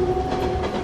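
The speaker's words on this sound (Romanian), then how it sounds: "Trece trenul. Trenul în gară." A train rolls through a railway station, a steady close rumble of rail cars with a faint metallic clatter, continuous and fairly loud throughout.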